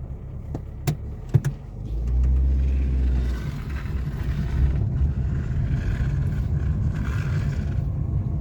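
A car engine idles, then rumbles louder as the vehicle pulls away through an opening gate on a farm, with a few knocks and clunks early on and a steady, close motor drone throughout.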